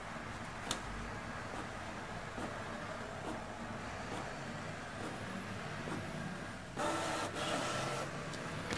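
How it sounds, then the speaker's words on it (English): A Canon MX870 Pixma inkjet printer runs its print-head cleaning cycle, a steady mechanical whir and hum with periodic clicks and a louder burst of motor noise toward the end. "So this is just doing its own internal diagnostics now, cleaning the printer heads"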